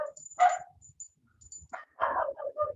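Neighborhood dogs bark at a distance, a few separate barks and yips rising over quiet outdoor background, faint and spaced apart.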